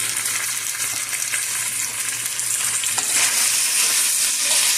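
Chicken noodles with mixed vegetables and spices fry in a hot pan, giving a loud, steady sizzle with stirring, close up and without talk.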